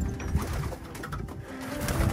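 Pigeons cooing in a home loft, a low steady murmur of soft coos that runs throughout with no talk.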